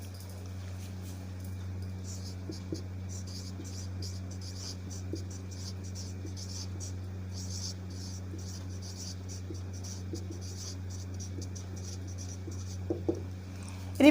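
Pen scratching across paper while filling in the educational qualifications section of a handwritten job application letter, soft intermittent strokes over a steady low electrical hum, with a few faint taps.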